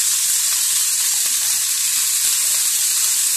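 Chicken breast in mesquite marinade sizzling in a hot pan, a steady, loud, bright frying hiss close up with faint clicks of movement and no talk.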